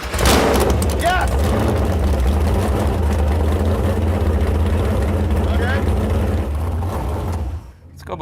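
A boat with a swapped-in LS V8 truck engine runs steadily and loudly, a deep low rumble close by, dropping away abruptly near the end.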